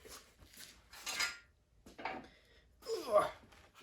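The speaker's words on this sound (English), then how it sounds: "Let me flip this motor real quick." Clunks and metallic scrapes as a heavy 5.3 LS V8 engine block is flipped over on a shop floor, a few separate knocks and a grinding drag, with strained breathing or grunts mixed in.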